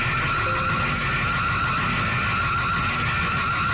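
Zambia's emergency alert alarm blares as a steady, harsh, multi-tone drone that stays loud and unbroken throughout.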